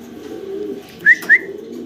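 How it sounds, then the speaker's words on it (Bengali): Caged pigeons give two short, clear calls close by over a low, steady background hum. "একদম অ্যাক্টিভ একটা কবুতর"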